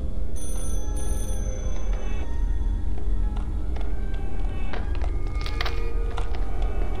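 A telephone rings inside a video game, a steady repeating electronic ring running through the whole stretch over constant background hum, with scattered taps and thuds from the game.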